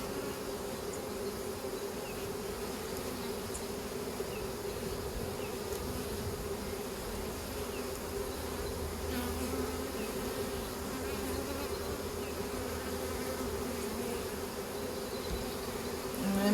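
A swarm of honey bees hums and buzzes continuously and densely inside a hive box as it is worked with empty frames, steady throughout with no talking.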